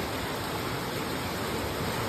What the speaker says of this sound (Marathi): ही उल्हास नदी दिसते आपली